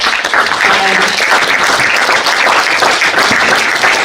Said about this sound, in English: Dorothy, please stand up so that these people can give you a round of applause